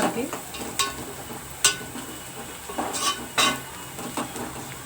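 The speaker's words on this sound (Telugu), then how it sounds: "చిటికెడు పసుపు ఒకసారి తిప్పుకుందాం ఇలా అంతా కలిసే" A spatula stirs turmeric and onions frying in a pan, giving a series of sharp metallic scrapes and clicks at an uneven rhythm over a soft, steady sizzle.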